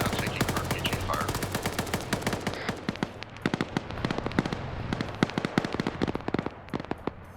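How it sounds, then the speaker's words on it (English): Gunfire and RPG fire in a military video game: dense bursts of automatic fire and shots, close and loud, crackle without a break through the whole stretch, with distant booms mixed in. "Eastern Vics are now taking RPG fire."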